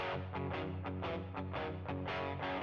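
A driven electric guitar patch through a Deluxe Reverb style amp plays a chunky rhythmic part in a country rock arrangement, loud and dense with steady repeated strums and no talking.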